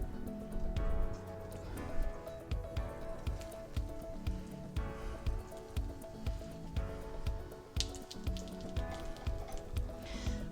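Rolls sizzle and squish in a little butter in a hot pan, soft bubbling crackle with repeated gentle taps and pops, fairly quiet and steady throughout.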